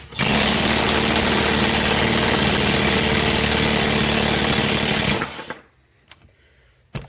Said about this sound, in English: Bending the exhaust pipe.